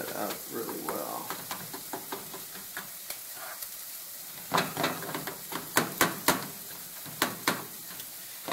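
Ground turkey, chopped small, frying in oil for chili, with steady sizzling and intermittent stirring and scraping clatter, louder scraping bursts toward the end, close up.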